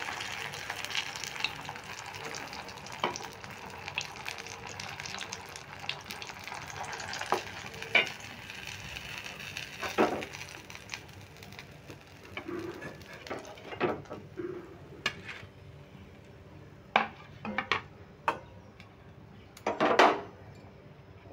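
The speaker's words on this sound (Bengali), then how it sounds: "এইভাবে আমি সবগুলোই ভেজে নিচ্ছি" Slices of pointed gourd (potol) frying in oil in a pan, a constant soft sizzle punctuated by repeated clinks and scrapes of a utensil turning the pieces, close and moderately quiet.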